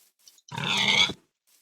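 A single short, nasal pig grunt in a Minecraft Tekkit game, close and fairly loud, standing alone amid near silence.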